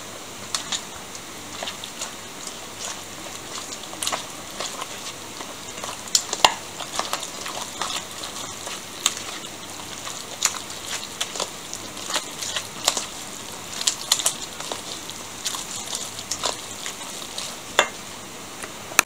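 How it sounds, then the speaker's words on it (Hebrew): Grated yellow cheese being stirred into a pasta and sweet potato mixture for a baked casserole, with soft, steady scraping and sticky squelching from a spoon working the mix, close by and continuous, with a few sharper clicks against the bowl. "אני מערבבת את הכל."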